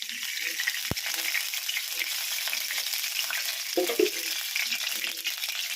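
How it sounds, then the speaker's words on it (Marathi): Oil sizzles and crackles steadily in a kadhai over a lit gas stove, a continuous close frying hiss with a couple of sharp clicks or taps partway through, and no voices over it. "तर आपण आता त्यामध्ये थोडंसं तेल टाकून घेणार आहोत."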